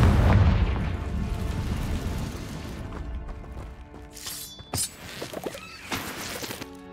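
A Confringo fire spell explosion in the Hogwarts Legacy video game gives a loud booming blast at the start, then rumbles away under scattered game effects and smaller sharp pops.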